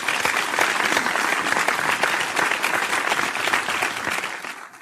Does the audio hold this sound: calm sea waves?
no